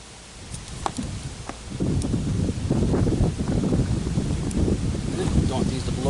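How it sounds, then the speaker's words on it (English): Wind blows outdoors at night around a 4x8 trailer build, buffeting the microphone in low gusty rumbles that strengthen partway through and then hold steady, with occasional faint knocks. "The wind is starting to pick up a little bit."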